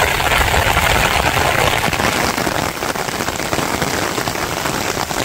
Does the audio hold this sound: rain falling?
yes